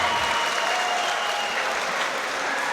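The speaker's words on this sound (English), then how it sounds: "the crowd are on their feet clapping" Crowd at a Wimp 2 Warrior London amateur boxing finale applauding after a bout ends, a loud, continuous wash of many hands clapping with a faint whistle or tone in the mix.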